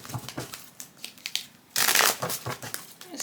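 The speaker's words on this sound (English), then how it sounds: "Let's give it one more good little shuffle here." A deck of tarot cards is shuffled by hand, giving crisp papery riffles and crinkling taps in short bursts, ending in a louder sustained riffle, close and alone.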